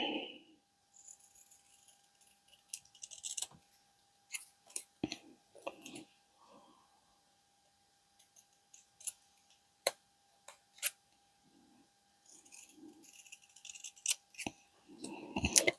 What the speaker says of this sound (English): Let me trim this down a bit.